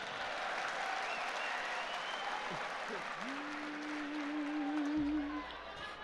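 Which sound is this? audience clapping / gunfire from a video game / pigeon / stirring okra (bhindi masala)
audience clapping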